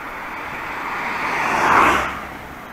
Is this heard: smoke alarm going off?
no